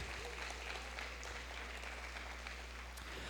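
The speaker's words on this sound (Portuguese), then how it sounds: "Pode dar uma salva de palmas para Jesus?" Church congregation clapping for Jesus during a pastor's sermon, a soft, sustained wash of applause heard from a distance over a steady low hum.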